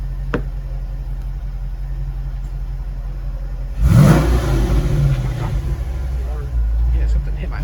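An old car engine idles low and rough after starting, a steady rumble that surges louder for a moment partway through, with voices talking over it.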